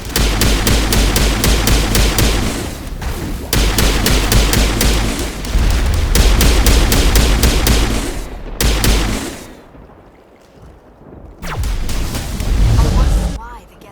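Rapid gunfire and explosions in a Mass Effect battle on Virmire, dense bursts of shots with booms, brief pauses and quieter stretches, then renewed firing near the end.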